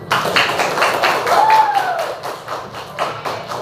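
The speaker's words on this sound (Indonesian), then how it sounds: "Tepuk tangan untuk kita semua" Students in a fifth-grade science class clap their hands at the end of a lesson, a loose spatter of taps and thuds mixed with children's voices and a sliding whistle-like tone.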